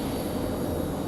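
A CRJ regional jet airliner arriving at Raleigh Durham airport makes a steady, broad engine roar that holds even and unbroken at a moderate distance.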